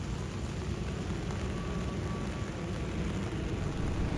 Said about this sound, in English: Most of the time, the weather in KK is like this, raining.